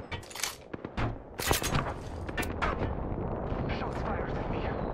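Gunfire in Apex Legends: a burst of sharp, loud shots in quick succession early on, then scattered single cracks over a noisy battlefield rumble.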